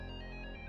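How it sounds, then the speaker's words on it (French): A telephone rings in the video game Undertale, producing a steady electronic tone that sustains through the whole brief moment, loud and close with no voices over it. "Ah, téléphone."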